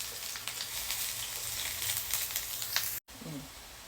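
Pork pieces frying in oil in a pan, a dense, steady crackling sizzle heard close up, briefly cut off near the end, with a faint voice at the very close.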